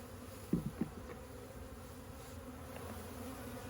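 A steady honey bee buzz hums throughout as bees from a nuc are shaken out, with a few brief clunks near the start, a cluster of bees droning close by.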